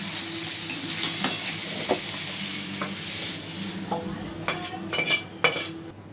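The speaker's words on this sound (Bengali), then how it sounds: "চিকেনটা ভাজা ভাজা করে নিলাম।" Chicken frying in a pan with a steady sizzle and scattered metal scrapes and stirring clinks, growing busier with sharp utensil knocks toward the end.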